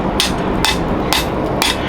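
A hammer fullers a forged steel spatula in four sharp, evenly spaced metallic blows, each ringing close and loud over a low background hum.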